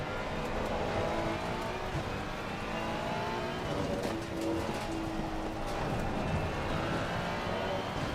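A race car engine in a VR sim racing game drones loudly and steadily, with its pitch rising and falling through braking and acceleration around the track.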